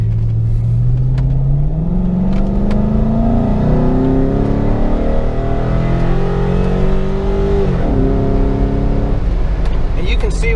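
A Jeep JK with a swapped LS 6.0 V8 running a 6.2 tune revs hard and climbs steadily in pitch as it pulls through the gears, loud and close with a shift near the end; someone talks over the engine.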